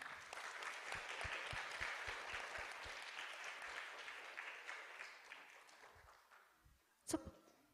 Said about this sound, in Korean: 심사위원님들께 감사의 큰 박수 부탁드립니다.